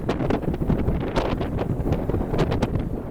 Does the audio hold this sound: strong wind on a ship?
yes